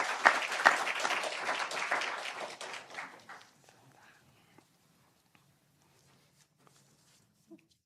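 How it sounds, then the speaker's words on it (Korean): A church congregation claps in welcome for a first-time visitor during a Sunday service, a dense burst of applause that fades after about three seconds into a quiet room with a few faint knocks. "우리 송민아 집사님께서 인도하신 우리 각지훈 청년 계신데 손 한번 들어주시면 저희 박수로 환영하겠습니다."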